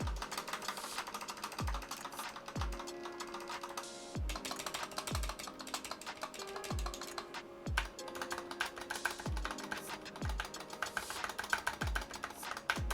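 Rapid typing on a GK61 mechanical keyboard, dense clacking keystrokes with a few heavier bottom-out thuds every second or two, close and steady, no talking.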